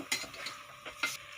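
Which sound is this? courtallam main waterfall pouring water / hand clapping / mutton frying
mutton frying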